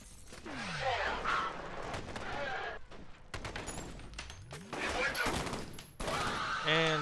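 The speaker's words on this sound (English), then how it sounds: "And this is why I like the ASP rifle." ASP rifle gunfire in the shooter game F.E.A.R., loud bursts of shots in several volleys with short gaps between them, mixed with in-game effects and voices.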